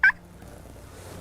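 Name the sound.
wild turkey gobbling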